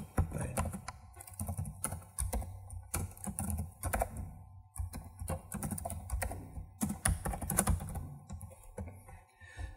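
Rapid keyboard typing while code is entered on a computer, an irregular patter of close, crisp keystrokes with short pauses, heard alone without talk.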